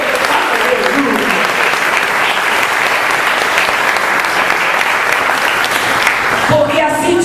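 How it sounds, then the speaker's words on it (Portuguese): A church congregation breaks into loud, sustained applause, a dense wash of many hands clapping together that carries on steadily for several seconds before a voice emerges near the end. "Aplaude o Senhor."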